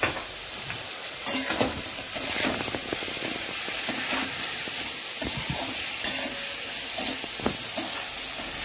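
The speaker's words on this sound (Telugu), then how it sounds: "ఇది మంచిగా వేగి చక్కగా ముక్క మెత్తపడి వేగుతుంది" Brinjal pieces for a brinjal curry fry in a pan with a steady broadband sizzle, broken by sharp scraping stir strokes and occasional pops, close and fairly loud, with no voices.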